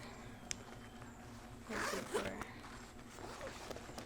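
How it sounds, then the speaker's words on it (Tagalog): A bag zipper is pulled open or shut in a long rasping run lasting about a second, close by and fairly loud, over a low steady background hum with a few faint clicks. "High zipper."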